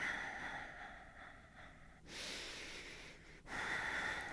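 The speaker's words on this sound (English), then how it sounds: "Going for 10 cycles of breathing here" Sharp nasal inhales and exhales during a Pilates reformer workout, a few audible breath cycles, close and fairly faint, with abrupt louder breaths partway through.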